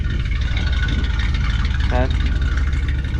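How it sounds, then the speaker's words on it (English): An old RV motorhome engine idles after its leaking exhaust manifolds were repaired, giving a steady, close exhaust rumble throughout while a person says a single short word. "So yeah, we have our normal exhaust sounds."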